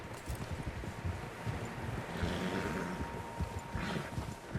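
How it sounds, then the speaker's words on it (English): Several horses' hooves clop across the ground in the Red Dead Redemption 2 video game, an irregular muffled patter of steps with light wind and rustle in the background and no speech. "Horses, quite a few of them."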